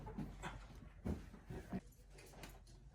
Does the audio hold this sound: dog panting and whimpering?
yes